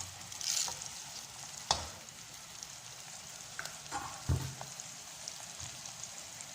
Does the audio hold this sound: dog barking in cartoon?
no